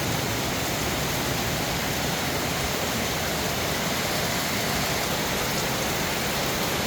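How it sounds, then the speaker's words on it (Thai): Heavy rain pours steadily at a resort in Mueang district, Uttaradit, Thailand, a dense, loud, unbroken hiss with no pauses and no voices. "ตอนนี้บอกเลยว่าติดฝนอยู่ที่รีสอร์ทนะครับ"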